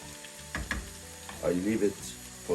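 Chicken liver sizzling in a hot pan, a steady close frying hiss with a few clinks and scrapes of utensils.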